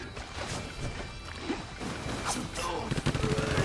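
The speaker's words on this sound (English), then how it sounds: "Use your machine gun leg." Machine gun leg firing in the Samurai Jack video game, a quick clattering burst of rapid shots amid sword-fight clashes and whooshes, fairly faint and short.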